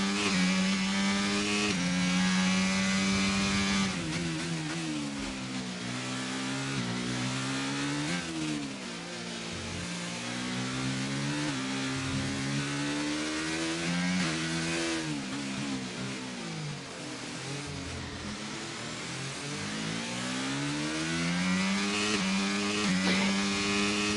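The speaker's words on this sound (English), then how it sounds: "Early upshifts coming over the Anderson Bridge, but then as he came out of the hairpin there, not as early upshifts." An F1 22 race car engine screams through the Singapore Marina Bay street circuit, rising and dropping in pitch with repeated quick upshifts and downshifts, loud and steady throughout with no talk.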